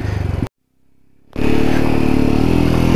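A Jawa 42 2.1 motorcycle engine climbs a high mountain pass road at Sach Pass with a close, pulsing thump. It drops out briefly, then returns as a louder, steady running drone.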